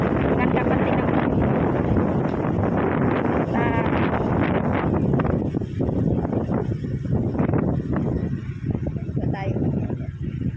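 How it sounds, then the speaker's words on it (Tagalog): Wind blows outdoors near a factory on a quiet road, a steady buffeting rush against the microphone while someone talks over it throughout. "Sarap ng hangin."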